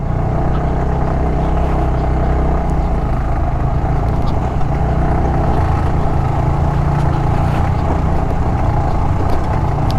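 A motorbike engine drones loudly and steadily while riding slowly over a slippery brick-paved rural road, close and continuous with low rumble and rattling road noise throughout.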